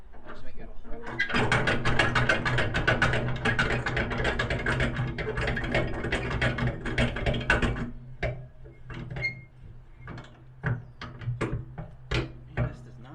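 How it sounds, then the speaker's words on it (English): A ratchet strap is cranked tight on a trailer, giving a fast run of rattling clicks for several seconds, then slower separate ratchet clacks spaced out toward the end. "this does not want to tighten onto this trailer very good"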